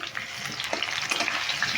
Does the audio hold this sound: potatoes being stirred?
yes